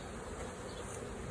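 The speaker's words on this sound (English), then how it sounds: "Lots of bees, lots of honey." Honey bees buzz around a hive frame while a wild swarm is installed into a hive, a dense, steady, close-up hum with no talking.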